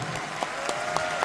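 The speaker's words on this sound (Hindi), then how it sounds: "जोरदार तालियां होनी चाहिए।" Loud applause from an audience at a company event in India: dense, steady clapping with a few sharper individual claps standing out.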